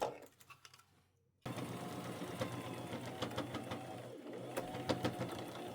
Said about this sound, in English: I'll go over the tie with a straight stitch about 5 times